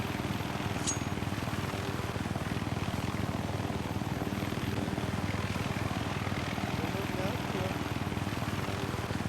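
Helicopter flying in Minecraft, a steady, dense rotor and engine drone that stays loud and unchanging throughout, with a single brief clink near the start.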